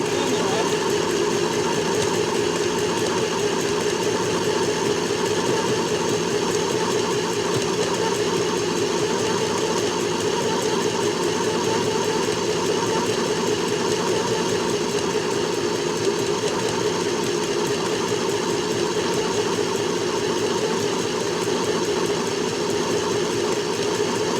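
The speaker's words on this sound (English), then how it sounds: "My sewing machine was jammed." A sewing machine hums continuously at a steady, fast pace for a long stretch, a close mechanical whir with no breaks.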